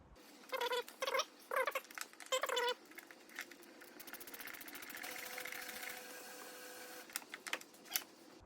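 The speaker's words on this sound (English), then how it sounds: "using our quarter drive ratchet, just finish tightening them down" A quarter-drive ratchet tightens glow plugs on a Renault Trafic or Vauxhall Vivaro diesel, giving a few quick bursts of close clicking at the start and then a longer, fainter stretch of steady ratcheting.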